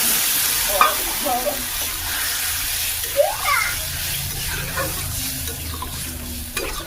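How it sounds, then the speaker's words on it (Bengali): Water is poured into a curry sizzling in a pan, giving a steady hiss and bubbling with a few sharper splashy bursts and clinks throughout. "এরপর এই জলটা দিয়ে দিচ্ছি"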